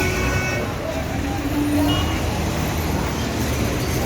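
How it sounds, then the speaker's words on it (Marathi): A busy Swargate MSRTC bus stand with many state transport buses parked: a continuous traffic rumble and engine drone with a brief horn toot, and a voice speaking over it. "हे आहे आपलं स्वारगेटचं एस टी स्टँड बऱ्याच गाड्या लागल्या"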